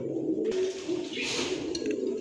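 Female pigeons at a pigeon sale coo steadily in a low continuous murmur, with a short clink and rustle partway through.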